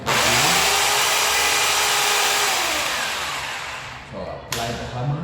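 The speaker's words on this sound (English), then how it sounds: "So let's go ahead and do the drilling." A loud electric drill whirs steadily for several seconds drilling a pilot hole in a wall, then slows and winds down, followed by a brief burst of noise near the end.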